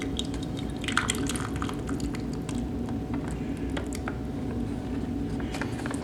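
Watery shepherd's pie stew from a cold-weather MRE ration pours into a bowl with soft squishing drips and liquid patter, steady and close.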